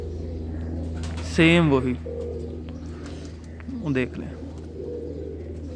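A pigeon being held coos twice in short warbling bursts, close and moderately loud over a steady low hum, with someone talking briefly between the calls.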